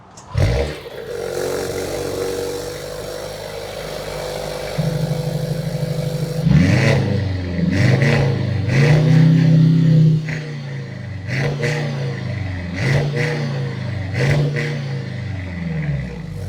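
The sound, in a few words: Mercedes-AMG C63 exhaust revving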